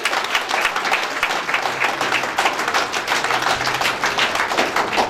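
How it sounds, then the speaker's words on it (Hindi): Loud, dense audience applause at a gathering in Pakistan, a continuous roar of many hands clapping close up throughout. "मैं आपसे गुजारिश करूंगा कि इनके लिए भरपूर तालियां बजाएं।"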